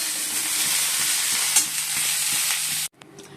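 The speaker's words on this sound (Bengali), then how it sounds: "একটু ভেজে নিয়েছি, আর ফোড়নে দিয়েছি 5 ফোড়ন আর সর্ষে ফোড়ন" Steady close sizzle of panch phoron and mustard seeds tempering in hot oil with lightly fried papaya for shukto, broadband crackle with a few stirring clicks, cutting off abruptly near the end.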